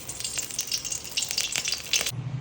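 Mustard seeds crackle and pop sharply in hot coconut oil as the tempering for rasam is made, a dense close-up sizzle that cuts off abruptly near the end.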